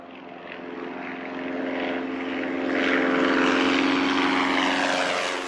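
A Legend Cub light propeller airplane drones with a steady buzzing engine note, growing louder and nearer through the middle, then easing slightly at the end.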